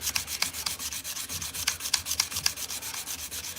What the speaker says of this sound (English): I'm sanding the flat of the knife where the handle is and not the bevel